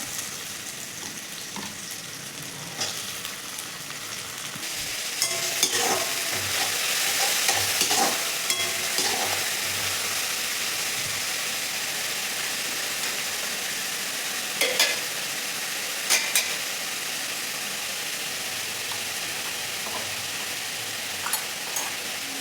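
Chopped tomatoes go into a pan of frying cabbage and green chillies for soybean chilli, sizzling steadily under repeated scraping stirs, loud and close throughout with a few sharper clatters from the spoon.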